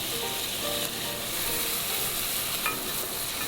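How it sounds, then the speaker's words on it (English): Beef browning in hot oil in a pan, a steady close sizzle and crackle with light stirring scrapes, no voices. "use the same oil to brown the second batch of beef"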